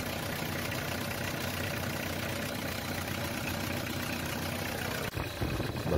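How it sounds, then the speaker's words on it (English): A car engine idles steadily at a constant low rumble, then a brief shift near the end as the engine is revved. "when you rev the engine by opening the throttle valve"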